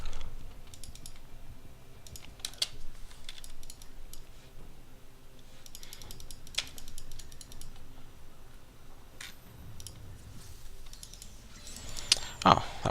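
Light mouse and keyboard clicking at a computer while playing Diablo III, soft scattered taps and clicks at close range over a quiet room, fairly faint with irregular spacing.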